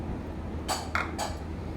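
A knife slicing an onion into rounds on a cutting board in a home kitchen, with three quick crisp strokes over a steady low background hum.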